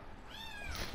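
A pet cat gives a single drawn-out meow, rising then falling, faint and close against a quiet room hum.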